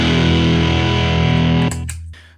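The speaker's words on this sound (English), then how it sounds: "I'll be using the Okko Diablo Overdrive on the rhythm examples" A Fender American Original 70s Telecaster Custom playing a sustained, thick overdriven chord through an Okko Diablo overdrive pedal, then choked off into a few short muted scratchy strums.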